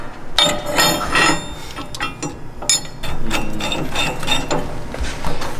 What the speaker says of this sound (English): And now we're going to tighten our U-bolts